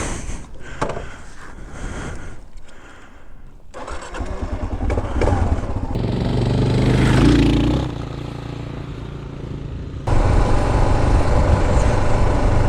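A Kawasaki KLR 650 adventure motorcycle engine starts and revs, then settles into a steady loud drone as the bike rides off down a dirt road, with wind rush building.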